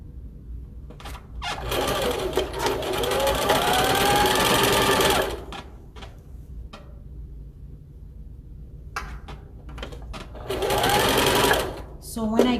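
A sewing machine stitching close to the edge of a fabric lunch bag, running in two loud, steady bursts of rapid mechanical whirring separated by a pause with light handling noises.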